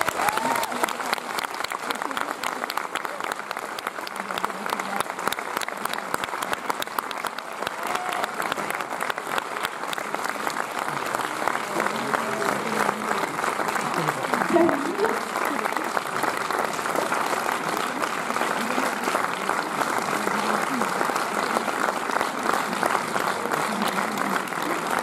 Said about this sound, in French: Là, j'entends vraiment de votre part les meilleurs applaudissements.